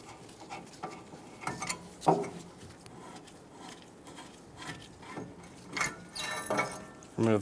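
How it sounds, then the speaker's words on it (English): An 18mm wrench loosens the two caliper bracket bolts on the rear brakes of a 2014-2018 Chevrolet Silverado 1500, producing quiet, close-up ratcheting clicks and metallic clanks in short irregular bursts between pauses. "Using an 18mm wrench, remove the 2 caliper bracket bolts."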